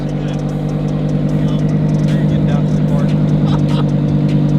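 A tied-down Lamborghini doing a standing burnout, with a loud steady engine drone and tire roar running throughout, close up, and voices faintly present underneath.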